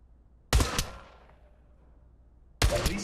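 Two sharp, loud gunshots in the VR shooter Pavlov Shack on Meta Quest 3, each a quick double crack, about two seconds apart, the first trailing off into a fading echo.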